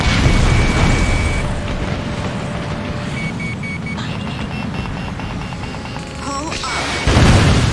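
A missile blast destroys a vehicle in the Ace Combat Assault Horizon video game, a loud continuous roar of explosions and rumble with electronic beeping tones, ending in a renewed heavy burst.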